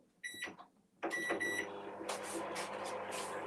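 Microwave oven warming white chocolate in a bowl: a few sharp beeps, a door clunk, then a steady close hum as it runs.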